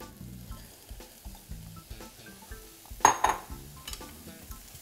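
White onions dropped into hot sesame oil for shumai filling give a soft, steady sizzle with faint rhythmic stirring and a couple of brief utensil clinks partway through, close and fairly quiet, with no talk.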